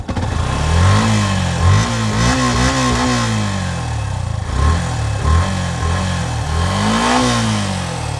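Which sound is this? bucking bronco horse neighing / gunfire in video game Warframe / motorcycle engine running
motorcycle engine running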